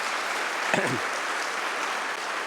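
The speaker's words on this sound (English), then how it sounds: "Give them a great round of applause." Applause from an audience at a TEDx event held inside Attica prison, a fairly faint, steady wash of clapping with a brief voice partway through.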